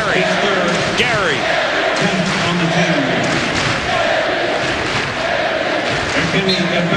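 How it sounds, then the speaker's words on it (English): A basketball arena crowd chants and roars in a dense, steady wash of voices during the closing seconds of a college game, with a commentator talking over it. "the crowd is starting to chant, Gary, Gary."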